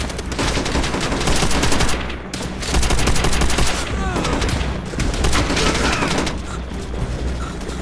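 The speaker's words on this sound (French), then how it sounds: "Mitrailleuse dans les bunkers!" Sustained bursts of rapid machine gun fire from bunkers in Call of Duty: World at War, dense and loud, with brief pauses between volleys and scattered booms.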